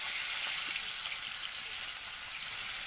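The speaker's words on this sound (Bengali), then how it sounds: "আজকে আমাদের এখানে মাছ ভাজা হচ্ছে।" Tangra fish frying in oil, a steady, fairly faint hiss of sizzling that carries on evenly throughout.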